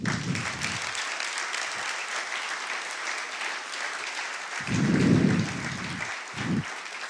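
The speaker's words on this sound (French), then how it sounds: "On peut l'applaudir, je suis d'accord." A keynote audience claps in a steady, dense wash of applause that carries on for about seven seconds, with a few brief low thumps underneath and no speech.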